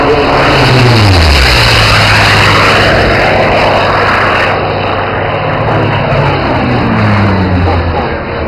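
A propeller airplane engine at an airshow drones loudly overhead, its pitch sliding down as it passes, steady and close with no voices.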